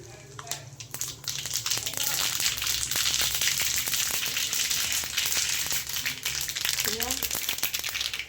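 Sesame seeds sizzling in hot oil, a loud, steady crackling fry with sharp pops and crinkling, and a voice speaking over it in places.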